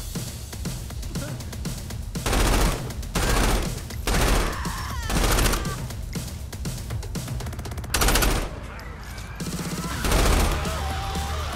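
Dual pistols fire in the game Saints Row IV as a loud string of rapid bursts, each lasting about half a second and repeating every second or two amid shouts and combat clutter.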